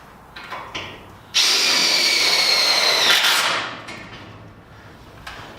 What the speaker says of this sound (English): I'd have to pre-drill for that one.